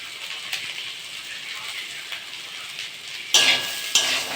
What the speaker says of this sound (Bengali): এটা নেড়ে চেড়ে ভালো করে ভাজবো